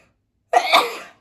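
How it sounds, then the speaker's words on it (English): A single sneeze, a sudden breathy burst lasting under a second, close and fairly loud after a brief silence. "And I'm going to sneeze"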